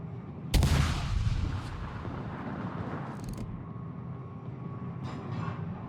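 Warship guns fire in a ranked naval battle game with a Minegumo destroyer, one sharp loud boom followed by a rumbling roar, then a couple of softer distant shots over steady engine and sea ambience.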